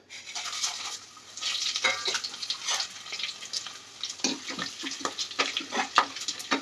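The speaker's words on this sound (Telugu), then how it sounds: "ఆయిల్ అయితే హీట్ ఎక్కింది. ఇప్పుడు ఈ ఐటమ్స్ మొత్తం ఇందులో వేసుకుందాము, మసాలా దినుసులు మొత్తం." Whole spices hit hot oil in a pan for haleem, crackling and sizzling fairly close, with bursts of spattering and stirring scrapes that rise and fall irregularly.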